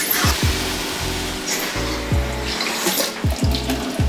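Tap water runs into a cooking pan while making curry chickpeas, a steady close rushing stream with repeated low gurgling pulses as the pan fills.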